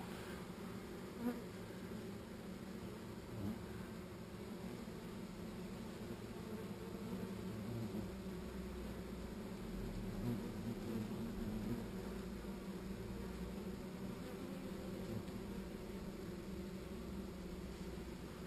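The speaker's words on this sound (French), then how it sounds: "la colonie est très très calme, mais s'occupe du frelon" A honeybee colony hums steadily while fighting off a hornet at the hive entrance, a soft, continuous insect drone with a few faint knocks and no talk.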